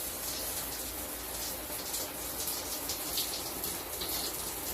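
Hot water runs steadily from a shower head, a constant broadband hiss of spray splashing without pause, fairly close and alone.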